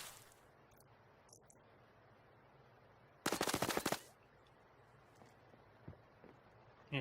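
Gunfire pre-fires in the mobile shooter Standoff 2: one loud, rapid automatic burst lasting under a second breaks a quiet stretch, followed by a few faint, scattered shots.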